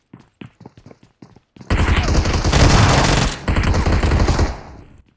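Gunfire in the BGMI battle royale game: a few scattered shots at first, then a dense, loud burst of rapid automatic fire that keeps going for about three seconds before it stops.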